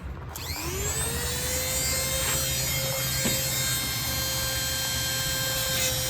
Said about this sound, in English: So we're gonna take a little bit off, just grind it